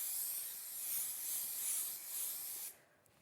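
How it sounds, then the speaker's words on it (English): An aerosol can sprays fabric adhesive in a continuous bright hiss for under three seconds, close and loud, then stops abruptly. "Give it a good shake and then spray it."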